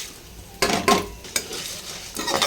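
Whole spices frying in a hot pan, a quiet sizzle broken by a few scraping strokes of a spoon stirring, close and alone without talk.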